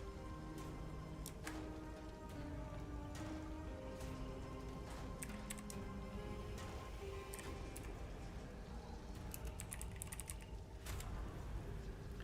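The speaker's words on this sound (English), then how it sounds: "I am using keyboard and mouse" Rapid PC keyboard typing and mouse clicks during a Dead by Daylight match, irregular bursts of close, crisp key taps over a low game hum, with a dense flurry near the end.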